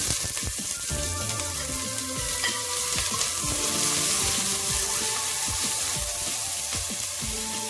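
Chopped onion fries in a pot for a Cameroonian potato hot pot, giving a steady crackling sizzle with scattered pops and scraping stirs, heard close and without talk.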